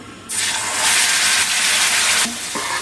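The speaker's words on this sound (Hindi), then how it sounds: "अदरक लहसुन को हम थोड़ा सा भूनेंगे" Ginger garlic paste drops into hot oil and bursts into a loud, steady sizzle that holds for about two seconds, then settles to a quieter frying hiss.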